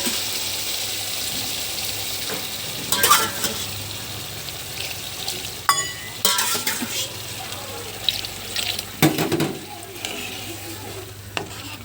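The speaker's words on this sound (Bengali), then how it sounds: "আমি এখন একটু ঝোলের জল দিয়ে দিব।" Water poured into a sizzling pan of fish curry masala makes a bursting hiss and stirring clatter, then settles into steady frying sizzle with occasional scrapes and splashes.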